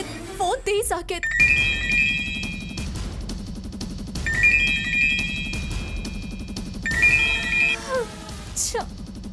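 A mobile phone rings repeatedly without being answered in a TV drama scene, a high electronic ringtone melody that comes in three separated bursts over low background noise.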